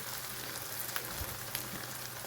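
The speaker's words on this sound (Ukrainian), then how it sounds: "я нарізала багатенько цибульки і обсмажую її" Plenty of coarsely chopped onions sizzle in a pan for pâté cooked in a pressure cooker, a steady close crackling fry with a couple of small taps and no voices.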